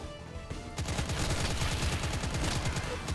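Rapid automatic gunfire from the Doom-like shooter game Impaler, a dense continuous burst of close, loud shots starting after a brief quieter lead-in and sustained to the end.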